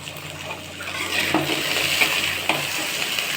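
Okra (bendakaya) fries in a pan with a steady sizzle, and a few scraping knocks come as the pieces are turned over.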